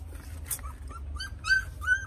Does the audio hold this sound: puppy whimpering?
yes